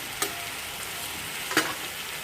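Garlic fries in a pan with a steady close hiss and crackle, sticking slightly to the bottom, with two brief utensil clicks breaking the even sizzle.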